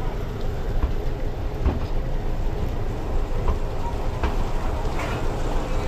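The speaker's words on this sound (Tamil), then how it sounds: "அந்த ட்ரெயின் கிளம்பிடுச்சுங்க ஊட்டி போகிறது." A steam-hauled toy train on the Mettupalayam–Ooty mountain line pulls out of the station, a steady low rumble of rolling wagons heard close by, with faint knocks and creaks and no talking.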